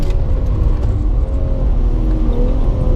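A car accelerating hard at full power out of the final turn off the back straight at COTA during a track day, with a loud, steady engine roar and rising whine that stays close throughout.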